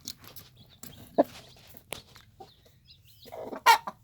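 A hen clucks in a nest beside newly hatched chicks, with short close clucks and a few brighter peeps scattered across a quiet background.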